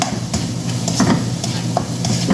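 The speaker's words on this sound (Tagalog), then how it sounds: "Ginisa na niya yung garlic, onion, at saka mushroom." Garlic, onion and mushroom sautéing in a pan, stirred with repeated scraping strokes over a steady close sizzle, no voices.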